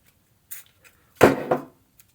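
The buttons of a Logitech MX Anywhere 3S mouse with a clicking fault are pressed up close, giving a soft click and then a louder double click in near silence.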